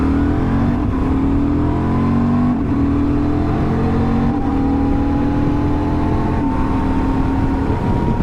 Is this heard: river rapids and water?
no